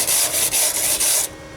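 A brush scrubs hard across a metal panel on a 1998 Ford Ranger, four quick rasping strokes in a steady back-and-forth rhythm, close and loud with no talking.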